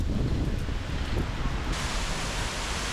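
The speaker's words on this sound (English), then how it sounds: "Seljalandsfoss is a waterfall that can be fully encircled, situated on the south coast of Iceland, with a drop of 60 metres" Seljalandsfoss, a 60-metre waterfall on Iceland's south coast, gives a steady roaring wash of falling water, broad and continuous like close surf, with some wind buffeting the microphone and no talk.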